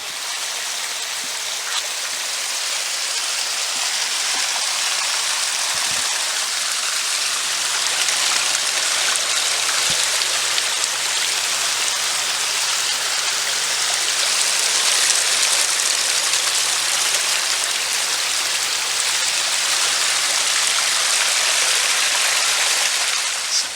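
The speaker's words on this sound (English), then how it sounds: "Bubbling boulder display in the center island here." Steady rushing, splashing water from a bubbling boulder water feature in a backyard runs continuously at close range, a dense even wash of bubbling flow with no pauses.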